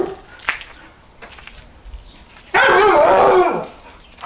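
A dog barks loudly and close in one burst of a few rapid barks, after fainter yips and whimpers, with no talk in this moment.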